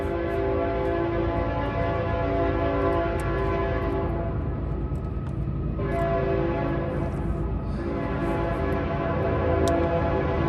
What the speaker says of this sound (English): let me let that train get by